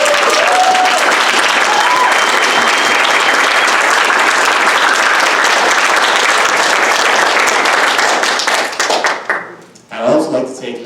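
A graduation audience for a game design class bursts into loud, sustained applause, dense clapping filling the hall for several seconds before tapering off, with a few voices at the very end.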